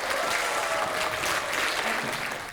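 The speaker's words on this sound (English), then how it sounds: "give these guys an applause again" A school jazz concert audience claps steadily and densely throughout, a full room of applause at an even level that fades slightly at the end.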